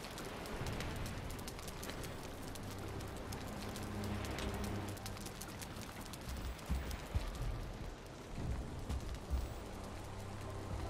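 Continuous rainfall hisses steadily throughout, with a few low knocks and taps near the end and no talking.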